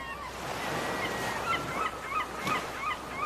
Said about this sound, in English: The seagulls welcome your presence.